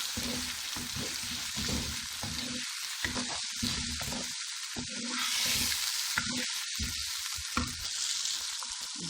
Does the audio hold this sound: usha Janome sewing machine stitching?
no